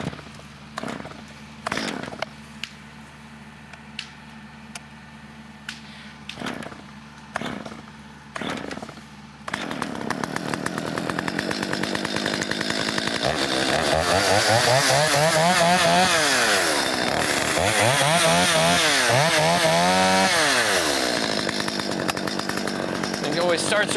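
A small Stihl 025 chainsaw, bought used and rebuilt, used for tornado cleanup of branches and treetops; someone talks over sparse knocks at first, then the saw roars loud and close, revving up and down repeatedly.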